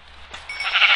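A sheep bleats as it is killed in a video game, a single short, rising bleat that grows louder and is heard alone.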